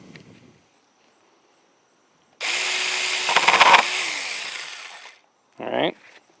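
A Saker mini chainsaw bites into a sunflower stalk in a garden, a steady buzzing whine lasting a few seconds before cutting out, followed by a brief second burst of the motor.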